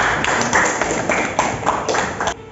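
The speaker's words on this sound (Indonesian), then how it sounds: "Kita kasih aplaus." A classroom of students applauds after a lesson, a short burst of dense clapping that stays fairly loud and close before cutting off at the end.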